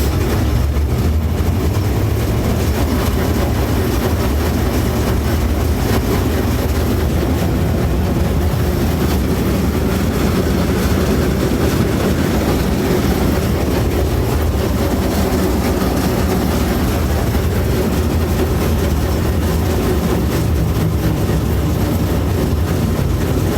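A Massey Ferguson 205 combine harvester engine roars continuously at full throttle, a loud dense mechanical drone with rattling, steady throughout and very close.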